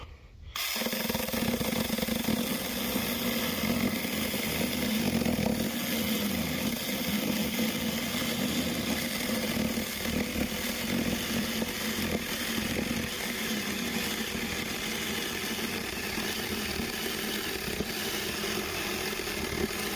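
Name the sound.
mini chainsaw cutting wood slab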